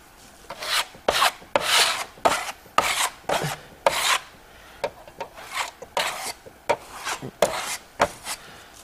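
A trowel spreads gold Venetian plaster onto a wall in a crosshatch pattern, giving a close series of short, scraping strokes in an uneven rhythm with brief pauses between passes.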